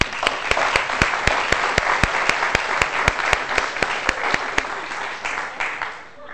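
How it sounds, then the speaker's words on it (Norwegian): An audience at a study-technique course applauds loudly, with sharp claps in a fairly steady rhythm over a dense wash of clapping that fades out near the end. "de gir vi en knallbra applaus"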